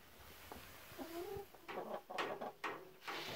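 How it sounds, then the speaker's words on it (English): A few soft, low clucks from chickens, then scattered rustling and shuffling noises nearby in an otherwise quiet space. "These are the new chickens."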